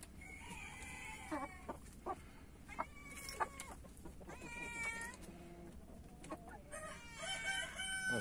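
Splash Wyandotte chickens cluck and squawk near and far in a lively yard, with several short crowing calls from a rooster and scattered bird chatter throughout.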